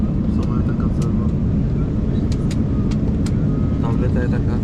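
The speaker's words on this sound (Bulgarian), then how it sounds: "Самолетът като завива." Airliner cabin noise as a plane banks through a turn on a flight toward Phuket, a loud steady broadband engine roar filling the space, with faint voices and brief clicks over it.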